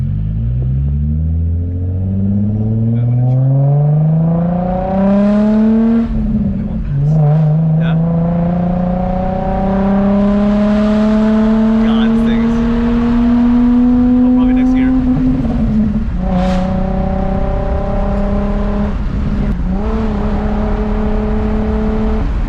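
A car engine revs past 4,000 RPM with loud, close, rising whines through several long pulls and brief shifts between them, while people talk over the roar.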